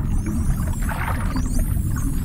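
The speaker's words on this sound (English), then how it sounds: "Sound is sent out as a series of short pulses." Rapid echolocation pulses from a bottlenose dolphin click continuously underwater, with whistle-like sweeps over a dense watery background.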